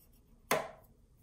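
A single sharp scoring stroke across paper for a handmade flip book, with a crisp, bright rasp that fades over a fraction of a second in an otherwise quiet room.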